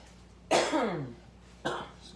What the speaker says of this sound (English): That's them jalapenos starting to make me cough already, tickling my throat.